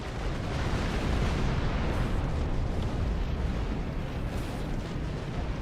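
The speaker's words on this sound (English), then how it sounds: "The Planet Killer has been destroyed." The Planet Killer blows apart in a Star Trek Online space battle, a deep, sustained rumbling roar that holds steady and loud without a distinct peak, with no voices.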